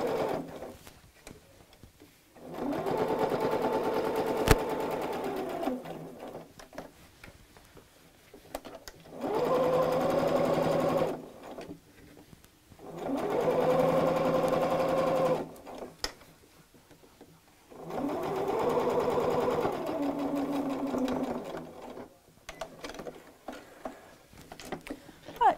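Close sewing machine stitching a craft mat bag in four long runs, each lasting a few seconds with short quiet gaps between, a steady whirring hum with faint clicks.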